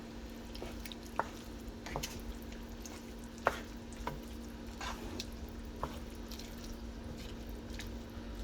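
A vegetable medley with chopped frozen tomatoes stirred down in a pot, soft wet squishing and occasional spoon clicks over a steady low hum, quiet and close, with no talking.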